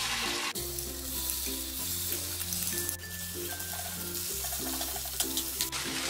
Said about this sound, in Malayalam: ഇനി ഇതിലേക്ക് ഈ മാരിനേറ്റ് ചെയ്ത് വെച്ചിരിക്കുന്ന ചിക്കൻ പീസസ് ഇട്ട് ഒന്ന് ഫ്രൈ ചെയ്തെടുക്കാം